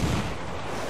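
Ship cannon fire in the pirate video game Assassin's Creed 4 Black Flag: a single heavy boom at the start that decays into a low, rumbling tail lasting under a second.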